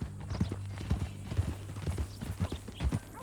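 Hooves of a new, mean-tempered horse clip-clop at a steady walking rhythm in Red Dead Redemption 2, a series of close, low thuds under a faint game backdrop.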